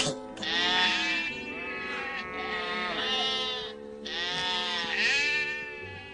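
Sheep bleating in a farm setting, a drawn-out wavering call repeated several times in close succession, loud and near, with no talk.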